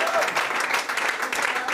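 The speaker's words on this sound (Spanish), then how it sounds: "Denle un aplauso fuerte" Loud, dense applause from a church congregation fills the short stretch, steady clapping from many hands throughout with no pauses.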